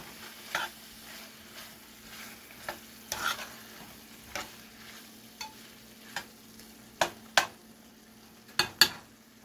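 A spoon stirs butter in a hot pan for restaurant-style butter chicken, giving a steady low sizzle broken by light scrapes and clinks against the pan at irregular intervals, with no talking.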